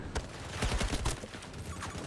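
Video game gunfire from a gun set to single fire mode, a handful of sharp shots spaced irregularly over a couple of seconds amid steady background game noise, moderately loud and without talk.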